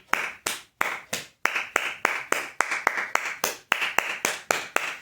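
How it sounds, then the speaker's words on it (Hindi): Hands clap steadily, around fourteen loud, crisp claps in an even rhythm, close by with no talking. "इतना ताली ठीक है या फिर और बजा दें?"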